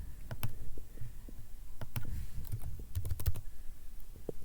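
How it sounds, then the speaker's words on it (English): A password being typed on a computer keyboard while setting up a Raspberry Pi 3 B+, with irregular bursts of close, clicky keystrokes and brief pauses between them over a low hum. "you're going to want to just type in the password"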